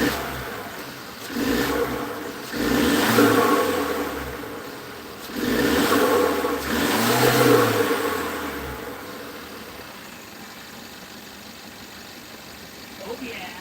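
A van engine with a turbo runs at a high idle, a steady close hum that swells and rises in two surges before settling, while people talk nearby.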